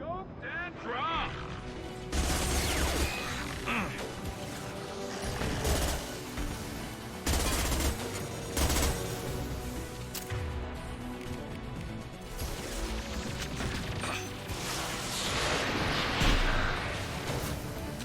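Rocket fire and explosive impacts in the video game Mass Effect 2, with repeated blasts and gunfire bursts spread across the stretch amid combat noise, and voices talking in between.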